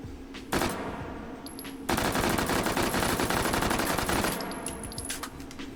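An MP5 submachine gun fires two long, loud, rapid bursts at close range, with ringing echoes between them and after them.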